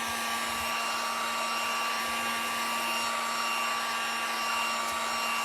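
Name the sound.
hair dryer drying paint on wooden planks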